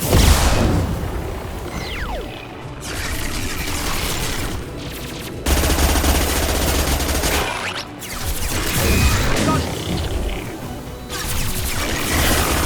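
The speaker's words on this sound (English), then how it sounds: "Taking too much fire." Mass Effect 2 combat, with loud bursts of rapid gunfire, booms and mechanical creaks in repeated waves and brief lulls between them.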